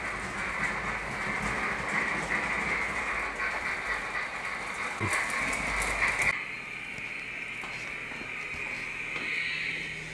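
A model train rolls up a ramp on a hobby layout, giving a steady, continuous rumble of small wheels on track that holds even for about six seconds, then drops to a quieter, thinner running sound for the rest.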